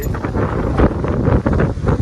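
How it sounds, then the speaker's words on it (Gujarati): Strong wind buffets the microphone at Shri Gangeshwar Mahadev temple in a steady, loud roar with gusty surges throughout, no voices present. "પવન બહુ છે વધારે"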